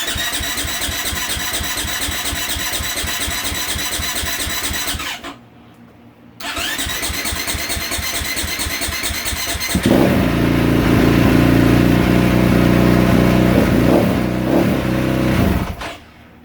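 A KTM 450SXF motorcycle engine, run after transmission repair with the choke on, turns over with a steady cranking rhythm, pauses briefly, then catches and fires into a loud, rough idle that holds close up before cutting off.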